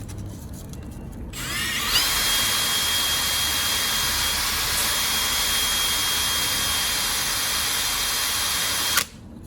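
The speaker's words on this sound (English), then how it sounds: "The commutator though, put it in a lathe" Lathe spinning up to turn down the commutator of a starter motor from a Citroen C1/Aygo/Peugeot 107, a loud, steady high-pitched whine that holds for about seven seconds and then cuts off abruptly.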